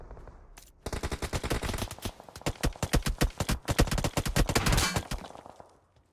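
Gunfire in PUBG Mobile, a long rapid automatic burst of loud, close shots in quick succession with brief pauses, after a few scattered single shots at the start.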